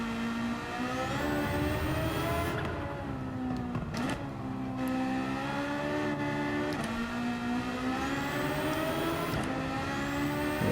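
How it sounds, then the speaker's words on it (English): A racing engine in a Gran Turismo 7 race car revs hard and continuously up close, pitch climbing and dropping through gear shifts, with crackling pops on the lift-offs. "Lovely listening to the engine pop and bang."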